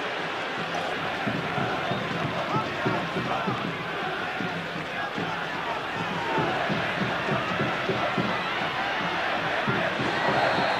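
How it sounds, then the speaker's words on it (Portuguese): Corinthians supporters applaud and cheer as a substituted player leaves the pitch during a Brazilian league football match against Santo André in 2008, a steady, dense crowd roar filling the whole stretch with rhythmic clapping. "o Flávio, camisa 16, no lugar do Marcelinho, que foi aplaudidíssimo mais uma vez pela torcida do Corinthians."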